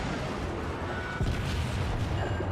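Heavy 14-inch main guns of the battleship Kongo fire in the World of Warships naval game: a deep, booming blast breaks through a steady rumble of battle noise partway in, loud and close.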